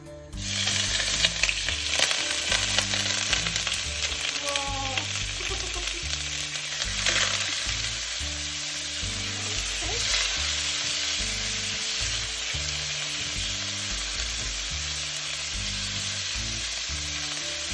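Belly pork frying in a pan for Korean kimchi stew, a continuous dense sizzle and crackle that holds steady throughout, close by with occasional faint scrapes.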